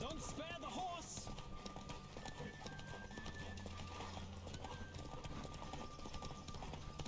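A horse gallops in The Witcher 3, its hooves pounding out a fast, steady rhythm. A short neigh comes early, and voices talk over it.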